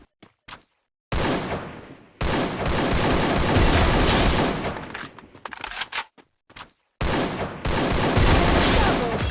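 Gunfire in the Free Fire video game, heard as loud bursts of rapid automatic shots in three long stretches, separated by short silences and a few isolated clicks.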